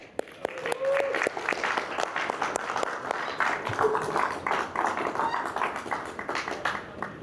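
An audience at a religious gathering breaks into scattered, moderately loud applause of individual claps that continues for several seconds, with some murmuring voices mixed in.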